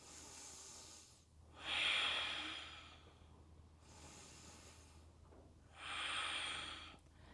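Slow, deep yoga breaths in a seated spinal twist: two long airy inhale and exhale cycles, each rising to a louder rushing hiss and fading away, close to the mic with no speech.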